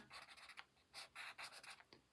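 A Sharpie marker drawing on paper, a series of soft, close scratchy strokes in short bursts with brief pauses between them.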